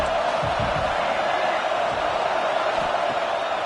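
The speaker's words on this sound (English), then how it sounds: "This crowd bringing the energy and noise early" A stadium crowd in an NCAA football video game roars with a dense, steady cheer and murmur the whole time, with a few low thumps underneath.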